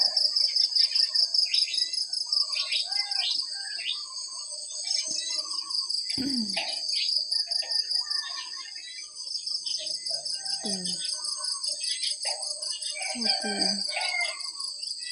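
A steady, pulsing night chorus of croaking frogs and trilling insects fills the background, with a rooster crowing faintly at times.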